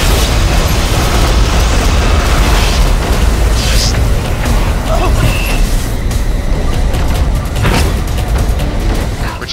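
Repeated grenade blasts in the video game Borderlands: The Pre-Sequel, heavy booming explosions stacked loud and continuous over several seconds with game noise throughout and a voice briefly heard.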